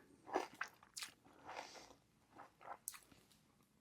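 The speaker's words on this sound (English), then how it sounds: "The crunch on the outside is gorgeous." A bite into a crunchy Mexican hot chocolate stuffed cookie with cinnamon, cayenne and a marshmallow centre, several close, crisp crunching bites and chews heard one after another, quiet and intimate with no talking.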